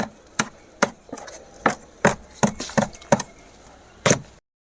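A hoe strikes soil around a garden plant in a series of sharp, irregular chops, roughly a dozen thuds over a few seconds. The blows are close and clear against a quiet background.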